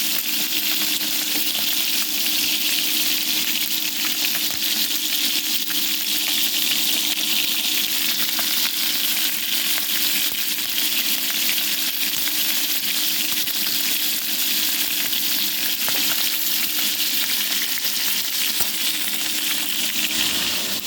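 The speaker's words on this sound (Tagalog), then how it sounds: "Ito akong pinirito. Tamban nanto." Tamban fish frying in hot oil in a pan, a steady, loud hiss and crackle with scattered sharp pops and spits that continue without pause for the whole stretch, no voices over it.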